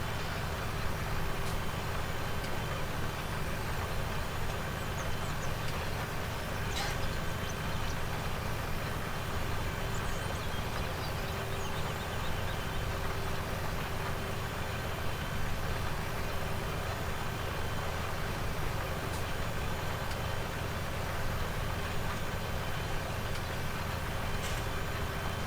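Steady low engine drone of a Steyr tractor idling in Farming Simulator 17, a continuous mid-low hum with constant loudness throughout and no talk.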